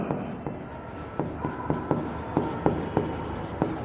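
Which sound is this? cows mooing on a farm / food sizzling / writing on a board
writing on a board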